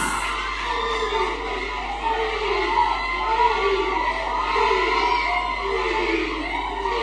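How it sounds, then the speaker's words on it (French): A school audience at a quiz competition between two colleges cheers and shouts for a team, a steady crowd roar with children's voices rising and falling throughout. "Levez-vous les mains et applaudissez l'équipe"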